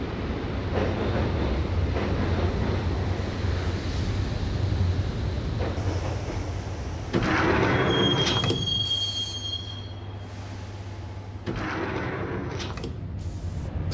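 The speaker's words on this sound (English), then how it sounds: "the train doors had already shut behind me, and I was in for the ride" A subway train in the game Max Payne rides toward Roscoe Street Station, its steady loud rumble joined by shrill wheel squeals and a clanking, door-like shift partway through.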